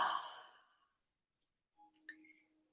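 A deep breath let out in a single audible exhale, fading over about a second into quiet, followed by faint soft clicks and a light breathy sound.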